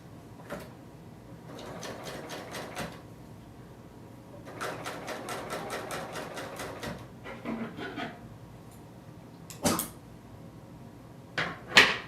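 A Bernina L890 serger stitches a test run with gray thread on scrap fabric, giving two rapid mechanical bursts of whirring stitches separated by pauses, with a few knocks and clacks of handling close by.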